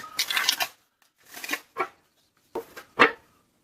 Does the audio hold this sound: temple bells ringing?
no